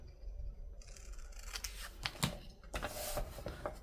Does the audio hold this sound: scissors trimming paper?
yes